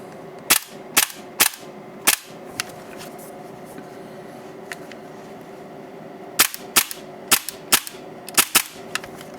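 Tokyo Marui Hi-Capa airsoft pistol fitted with AKA upgrade parts, including a steel slide stop and aluminum magwell, fired in two bursts of sharp, snappy close shots, four spaced shots, a pause, then about six more.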